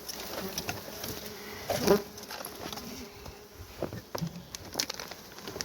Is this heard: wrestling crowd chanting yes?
no